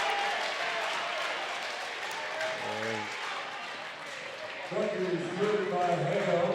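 Crowd applause fills a high school basketball gym at the Jared Cook Classic, Langston Hughes HS versus Gainesville HS, a broad continuous clapping wash under a commentator's voice, swelling louder near the end.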